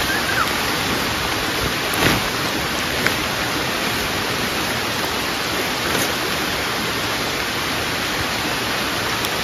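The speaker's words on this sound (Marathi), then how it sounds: "पाऊस आला जोरदार" Heavy rain pouring down in a forest at a night campsite where a tent is being pitched, a dense, loud, unbroken hiss with a few faint knocks.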